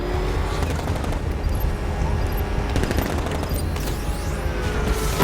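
Dense gunfire in Batman Arkham Knight combat, rapid machine-gun bursts and shots rattling continuously and loudly over engine rumble, with no pause across the stretch.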